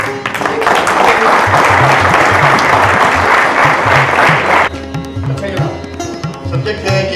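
Audience applause at a poetry and literary gathering, loud dense clapping for several seconds that stops abruptly, giving way to music and voices.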